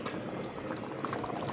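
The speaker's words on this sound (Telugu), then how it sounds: "ఇక్కడ పులుసు మరుగుతుంది" A pot of fish stew (pulusu) boils steadily at close range, with a dense, continuous bubbling and gurgling and no talking.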